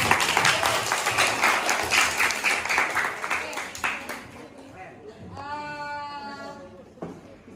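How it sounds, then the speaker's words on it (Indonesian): Classmates in a high school sociology lesson clap for a student who scored well on a quiz, a burst of close, dense applause that fades after a few seconds, followed by a short high-pitched voice and a brief clap. "Tepuk tangan buat Nak"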